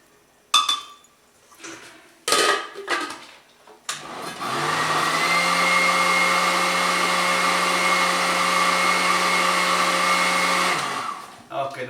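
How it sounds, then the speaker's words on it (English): A blender purees duck liver parfait, running as a loud, steady whirring drone for several seconds after a few clinks and knocks of glass and utensils, then stopping. "Make sure it's all getting pureed evenly."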